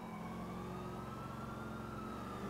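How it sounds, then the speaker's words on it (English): A police siren in the GTA IV LCPDFR mod rings out steadily over a low, constant engine rumble, fairly distant and without any talking. "I can still hear those sirens."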